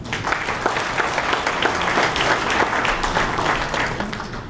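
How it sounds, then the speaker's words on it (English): Sustained applause from an audience at an evening awards event honoring the awardees, a steady dense clapping that stays loud and even throughout with no talk over it. "I'd like to give a round of applause to the awardees tonight."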